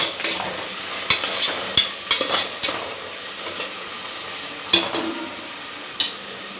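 Onions frying with salt in a pan, a soft continuous sizzle beneath several distinct spatula scrapes and clicks against the metal at irregular intervals, close and clear with no voices.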